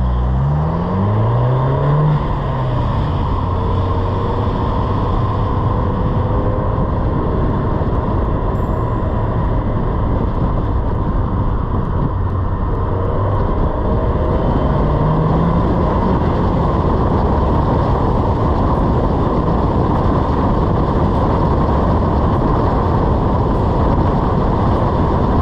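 Abarth 595 Competizione, a sporty Fiat 500, driven on the road in sport mode, its engine a loud continuous drone with rising and falling pitch as it revs and shifts, heard from inside the cabin.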